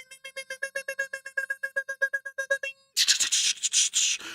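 Morse code beeps form a rapid run of short, evenly spaced tones that cut off abruptly, then a harsh burst of noisy sound follows.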